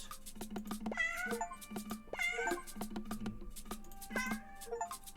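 Cartoon cats meow repeatedly in the video game 100 Cats, with short, tonal, overlapping mews and a few drawn-out caterwauls over quiet game ambience and no talking.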